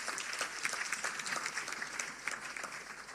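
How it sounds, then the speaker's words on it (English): Applause from the audience at a public sector service excellence awards ceremony, a continuous wash of many hands clapping that tapers slightly toward the end. "we need to give ourselves a round of applause"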